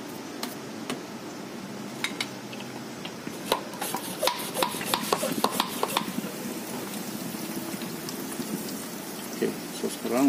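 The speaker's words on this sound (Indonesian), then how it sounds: "bersihkan menggunakan brush" Brush scrubbing brake drum parts on a Proton Saga, a soft, steady scratchy rubbing close by with scattered sharp clicks and taps from the parts.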